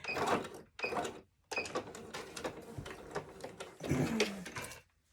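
Sewing machine stitching fabric for a notepad cover, several quick bursts of rapid mechanical whirring separated by short pauses, close and fairly quiet.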